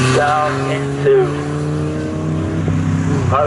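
Race cars at Snetterton, Porsche among them, come round Coram corner during qualifying, their engine notes rising and falling at moderate distance beneath steady commentary.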